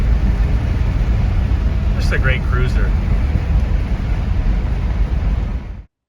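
A 1973 Ford LTD Brougham with a 460 V8 cruises along, giving a steady, loud broadband engine and road rumble with wind noise. A brief voice surfaces partway through, then the sound cuts off abruptly.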